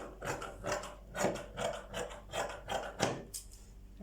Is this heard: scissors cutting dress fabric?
yes